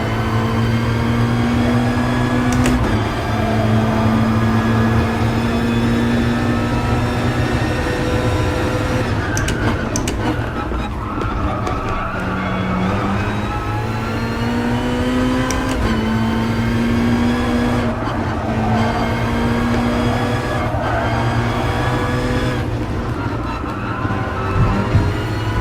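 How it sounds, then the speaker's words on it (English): Race car engine in Gran Turismo Sport, loud and continuous, droning and revving with rising and falling pitch through gear changes for the full length. "Sure as hell doesn't sound like a 4-cylinder engine."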